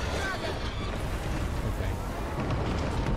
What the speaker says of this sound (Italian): I cannoni cantano, che è una bellezza.